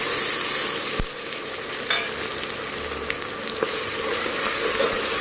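Onion and ground masala paste frying in oil for an Agri-style vajadi dish, a loud continuous sizzle close by with occasional spoon scrapes and knocks against the pan, and no voices.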